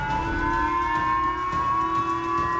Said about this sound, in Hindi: किम के मिसाइल फायर करते ही खतरे का सायरन जापान में बजा